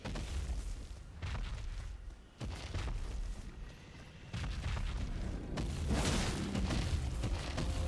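Glintstone Dragon Adula stomping in Elden Ring, heavy booming thuds recurring every second or two under a rumbling background, growing louder toward the end.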